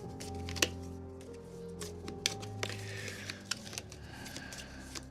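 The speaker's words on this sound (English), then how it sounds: "I will cut this and take the top card." A deck of cards is cut and handled at a tabletop game session, with soft riffling, sharp snaps and clicks over a faint sustained electronic hum, quiet and close.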